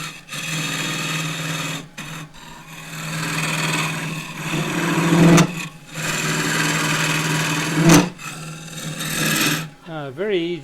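On a wood lathe, a heavy one-inch scraper cuts an ironbark pot, making a harsh sustained scraping hum under the motor's steady tone, broken by short pauses and sharp catches.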